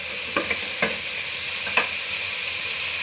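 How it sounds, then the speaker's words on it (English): Palak chicken masala, a green spinach chicken curry, sizzling steadily in a hot pan over high flame, with a few sharp scraping stirs of a utensil against the pan over the constant hiss. "we want that sizzle to occur again"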